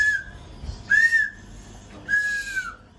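Three short, shrill whistle blasts, each a sliding high tone, separated by brief pauses, moderately loud with a quiet background.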